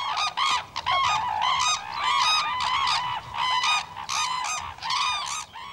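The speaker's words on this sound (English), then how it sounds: "Their true name is the red-crowned crane" Red-crowned cranes call in loud, repeated, brassy honking bursts that overlap one another almost continuously, sounding close by with no talk.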